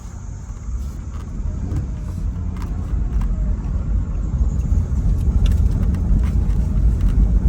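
A car being driven under load with rattling valves gives a close, steady engine rumble inside the cabin that grows slightly louder, with a faint, irregular ticking running through it.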